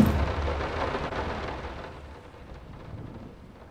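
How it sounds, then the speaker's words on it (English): Heavy rain pours with a low thunder rumble in a horror game setting, loud at first and then gradually easing off into a softer, steady patter. "The rain is calming down a little bit."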